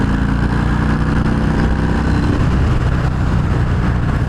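A 2020 Harley-Davidson FXDR 114 motorcycle pulls hard in sixth gear, its engine a loud, continuous, throbbing rumble mixed with rushing wind noise, steady from start to end.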